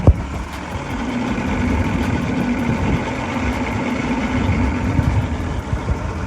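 A 2000 Johnson outboard motor idles with a steady low rumble throughout, close by and continuous, with no voices.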